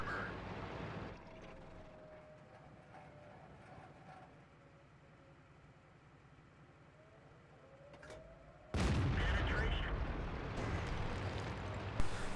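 Tank cannon fire in World of Tanks, an AMX ELC bis on the Winterberg map: a quiet low engine hum gives way to a sudden loud booming blast near the end, followed by sustained heavy rumbling.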